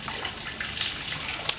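Running water gushes in a steady, close hiss while a bare aluminum alloy Corvette rim is washed with degreaser.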